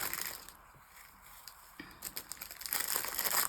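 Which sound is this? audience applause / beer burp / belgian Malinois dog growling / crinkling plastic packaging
crinkling plastic packaging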